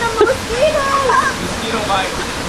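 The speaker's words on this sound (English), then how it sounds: "Look at that beautiful waterfall." A waterfall by a pool of cold water keeps up a steady rushing hiss, heard close and moderately loud, while a voice sings and talks loosely over it throughout.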